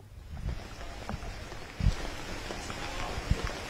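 Steady rain falls outdoors as a continuous soft hiss with occasional heavier drops and thuds, fairly faint and even throughout.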